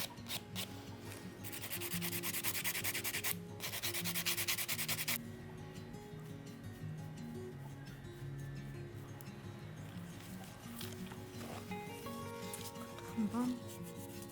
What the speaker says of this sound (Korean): 샌딩 작업하고 이 위에다가 진행해 볼게요